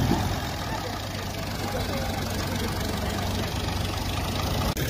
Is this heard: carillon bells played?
no